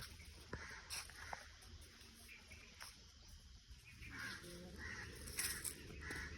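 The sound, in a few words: crows cawing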